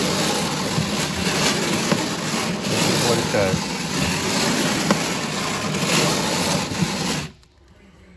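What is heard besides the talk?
radial aircraft engine running, museum display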